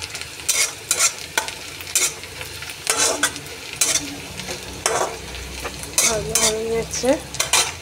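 Onions fry in a pan while being stirred, a low sizzle punctuated by regular scraping strokes of a utensil about once a second, with a voice speaking briefly near the end.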